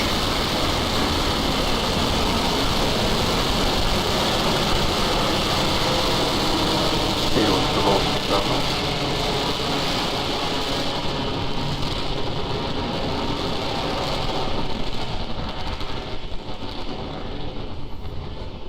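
A SpaceX Falcon 9 carrying a Crew Dragon capsule lifts off from pad 39A, a steady, dense broadband roar that holds loud and unbroken throughout, distant and rumbling, thinning slightly toward the end.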